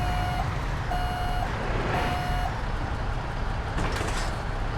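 Truck reversing alarm in Euro Truck Simulator 2 on a modded Freightliner FLB: three evenly spaced steady beeps over a continuous low engine rumble.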